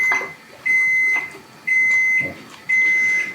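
An oven beeping to signal it has finished preheating: four loud, steady electronic tones of about half a second each, evenly spaced roughly one second apart, heard alone in a quiet kitchen.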